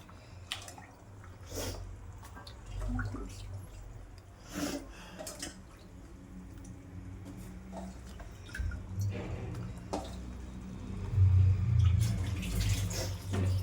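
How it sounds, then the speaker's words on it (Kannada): Water trickling into a pan of bottle gourd and brinjal palya, a soft, close splashing and dribbling that swells toward the end, with faint kitchen clatter and no talk. "ನೀರು ಸ್ವಲ್ಪ ಹಾಕ್ಕೊಳ್ಳಿ"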